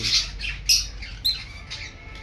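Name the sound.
green pet birds squawking in a bird colony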